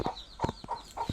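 Chickens cluck in short separate bursts, about four calls spaced through the moment, close by and moderately loud, sheltering from rain outside a tin-roofed mud house.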